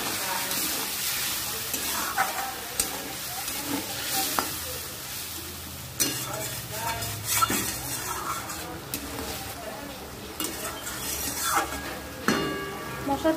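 Spice paste for a Bengali rohu fish curry sizzles and fries in a pan while being stirred, with steady scraping strokes and clinking of the utensil against the pot, continuous and close.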